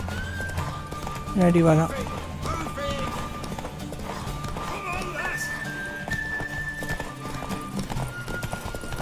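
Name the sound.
horse hooves and whinny in the video game Witcher 3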